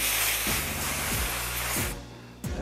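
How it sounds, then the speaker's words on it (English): A long, close hiss of aerosol lubricant sprayed onto an airsoft Glock spring runs for about two seconds, with soft clicks and handling knocks, then a brief final spurt. "Now I don't know how the proper way to lube the spring is, so I'm literally just gonna spray it."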